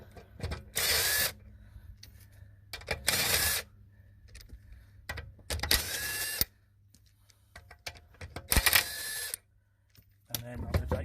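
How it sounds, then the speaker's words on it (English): Electric impact wrench spinning off the wheel nuts on a Skoda Superb Mk3 during a rear brake pad change, several loud whirring bursts of about a second each with short gaps between them and brief talk in the quieter stretches. "I'm just going to remove the wheel nuts."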